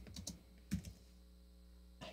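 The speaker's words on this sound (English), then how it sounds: "I can't stand typing on the bottom of the screen" Sparse typing on a computer keyboard: a quick cluster of clicks, a louder isolated keystroke, then a pause and another faint tap, quiet and close with a low background hum.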